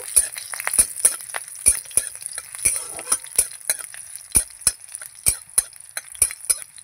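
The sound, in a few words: stirring green chillies tempering in a pan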